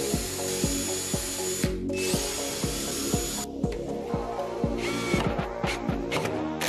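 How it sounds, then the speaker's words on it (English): A power drill pre-drilling screw holes to mount ports on a wooden subwoofer enclosure, a steady loud motor whine with repeated bursts as the bit bites into the wood, close up and continuous. "I'm going to pre-drill my holes and screw these ports down to the enclosure"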